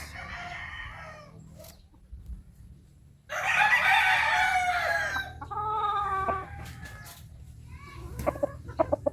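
A fighting rooster at a village cockfighting gathering crows loudly and close in one long, strong call, preceded and followed by shorter clucks and calls, with faint crowd noise underneath.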